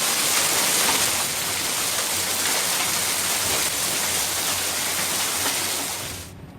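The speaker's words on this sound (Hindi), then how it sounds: "दिल्ली एनसीआर में हल्की से मध्यम बारिश और गरज के साथ बौछार पड़ी।" Rain shower over Delhi, a steady, dense hiss of falling rain that holds at an even level throughout, then cuts off abruptly just before the end.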